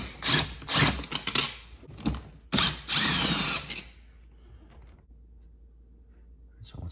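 Power tool backing out T20 screws from a Duramax truck's third brake light: several short whirring bursts with ratcheting clicks, close and loud, then quiet with faint rustling afterward.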